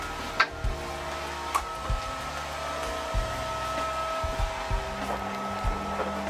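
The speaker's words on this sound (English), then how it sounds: "this is a regular household 240 volt washing machine" A regular household 240 volt washing machine runs with a steady motor hum, broken by soft rhythmic knocks and thumps from the drum at uneven intervals, with no talking.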